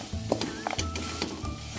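Jaggery melts with ghee in a pan while being stirred, producing a soft sizzle with several quick scraping strokes of the spoon, close and moderately loud.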